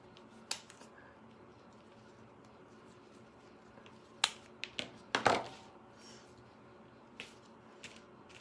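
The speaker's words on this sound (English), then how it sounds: "I'm going to cut the ends off of it" Scissors snip the ends off a ribbon bow in a few sharp, quiet clicks clustered near the middle, with soft rustling of the ribbon between cuts.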